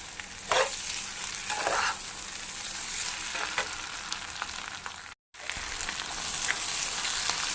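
Egg curry sizzles steadily in peanut oil in a pan while a spoon stirs it, with a few distinct scraping strokes early on and a brief silent gap partway through.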